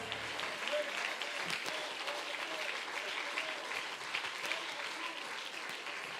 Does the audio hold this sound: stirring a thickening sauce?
no